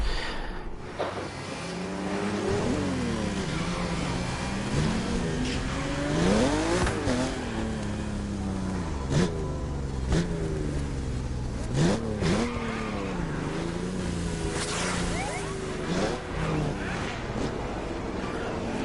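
A Porsche engine revs and shifts in The Crew Motorfest, rising and falling through the gears with a steady drone, while a person talks over it throughout.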